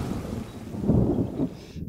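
Low rolling thunder rumbles through a TV drama storm scene with steady rain beneath, the rumble swelling in the middle before fading out.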